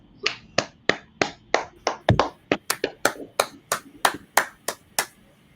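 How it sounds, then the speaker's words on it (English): A steady run of about fifteen sharp, crisp hand claps in even rhythm, close and clear with no talking, opening a podcast. "All right, clap it up."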